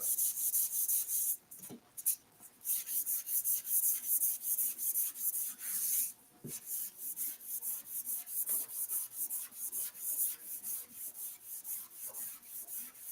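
Steady rhythmic rasping of sandpaper rubbed by hand back and forth across a curly maple board, close and continuous, with a couple of brief pauses.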